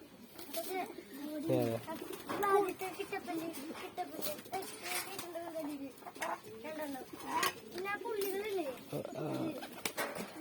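Pigeons in a coop, some of them slightly ill, coo in repeated low warbling phrases across the whole stretch, mixed with a person talking nearby.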